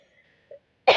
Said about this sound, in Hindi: जब खांसी हो रही ना तो रुकने का नाम ही नहीं ले रही है